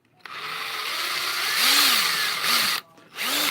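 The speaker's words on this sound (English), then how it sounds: "You always got to be comfortable when you're drilling." Power drill running continuously under steady load, close and loud, with a brief cutoff near the end before the motor spins up again.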